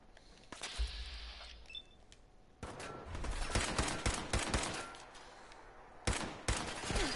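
Enemy gunfire in Fallout 4 Survival inside the Corvega assembly plant, faint scattered shots and clattering bursts at a distance that grow busier midway, with a sharper crack near the end.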